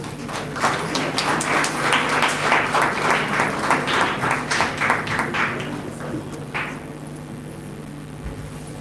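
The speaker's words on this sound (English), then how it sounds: "Please welcome her to the podium with a round of applause." Audience at a human rights celebration applauding as a speaker comes to the podium, a dense, fairly close round of clapping that tapers off into a few scattered claps and quiet.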